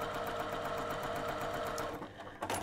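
A sewing machine runs a 3/8-inch seam on a fabric gift pouch with a fast, steady mechanical whir close up, then stops near the end before a brief clunk.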